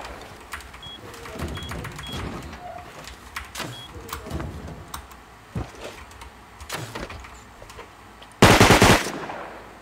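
Gunfire in the survival game Rust, heard as scattered sharp shots and short bursts spread across the stretch, with a loud close blast of fire near the end.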